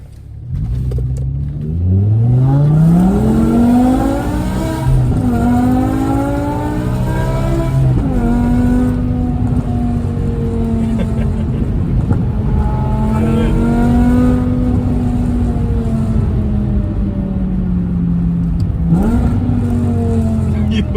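A BMW E60 M5 V10 engine drones steadily from inside the car during normal driving, rising through the revs and dropping with each gear change. People talk intermittently over the loud, continuous engine note.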